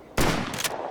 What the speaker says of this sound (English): M590